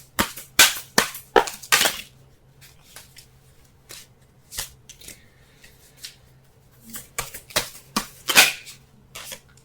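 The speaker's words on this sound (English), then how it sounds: "Let's go ahead and shuffle so we can get a clearer understanding of the cards here." Tarot cards are shuffled by hand in repeated crisp riffling bursts, some quick and clustered, others single sharp flicks, close up with no talking.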